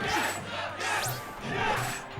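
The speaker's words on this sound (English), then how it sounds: "The cheer coming out from USA right now." The USA team's crowd roars and cheers continuously at a Super Smash Bros. Brawl crew-battle tournament, a dense, loud wall of shouting voices that swells in waves.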